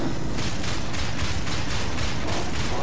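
Rapid bursts of gunfire during combat in the video game Darksiders, a dense, loud, steady barrage with rhythmic volleys and no voices.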